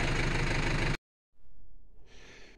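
A tractor engine runs loud and close, pulsing roughly for about a second, then cuts off abruptly, leaving a brief silence before faint rumbling and a higher hiss return, at a birch-felling site near a high-voltage power line.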